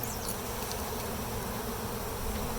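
Honeybees drone in a dense, continuous buzz during a hive inspection, a close, steady swarm sound with no voices.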